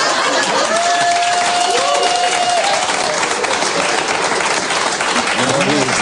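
Studio audience applause, a dense, continuous wash of clapping and crowd noise that stays loud and even for the whole stretch, with a faint held tone briefly riding over it.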